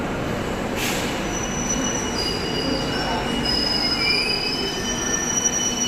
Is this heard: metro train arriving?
yes